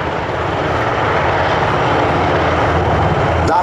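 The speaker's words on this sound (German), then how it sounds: "Nach dem sehr schnellen Absetzen der Kräfte erheben sich nun die Hubschrauber, die die QRF-Kräfte abgesetzt haben, und fliegen wieder in den Reaktionsraum" Military transport helicopters lift off after rapidly dropping special forces troops at a landing site, a loud, steady rotor and engine roar filling the whole stretch at close range without letup.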